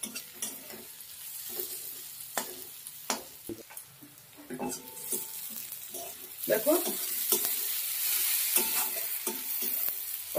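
Onions being stir-fried in oil in a pan until browned, with a soft continuous sizzle broken by sharp scraping strokes of a spatula against the pan, getting busier toward the end, and a brief spoken word partway through.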